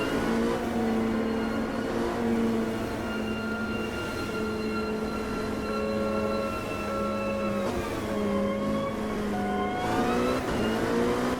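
Loud, steady LMP2 prototype race car engine at Road America in the Automobilista 2 racing game, holding a droning harmonic whine with pitch dips and rises around gear changes, continuous throughout with no talk.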